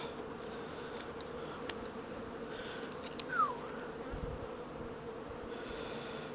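A honeybee buzzes in a steady, continuous drone throughout a beekeeping session, with a low hum under a few faint clicks and a brief louder swell near the middle.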